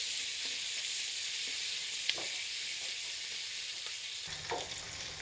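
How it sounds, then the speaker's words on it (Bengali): Whole bay leaves and whole garam masala spices fry in hot oil with a steady, fairly quiet sizzle, broken by a few light clicks and stirring scrapes. "গোটা তেজপাতা গোটা গরম মশলাগুলো দিয়ে দিলাম তা লাল করে ভাজবো"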